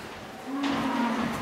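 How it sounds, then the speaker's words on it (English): Large Huckerdale cattle on a farm give a single drawn-out moo that rises into a loud, sustained low call, heard alone at middle distance with no talk. "The Huckerdale cattle here, some of the bigger ones"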